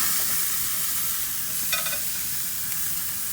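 Thin-cut fajita meat that has just been flipped sizzles on a grill with a soft, even hiss and one or two faint clicks, and no one speaks.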